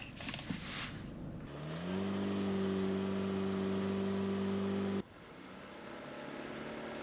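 A 2022 Genesis GV70 2.5 launches in a drag race, a loud sustained engine drone climbing in pitch and holding strong for several seconds before dropping off sharply, with broadband road and wind noise throughout.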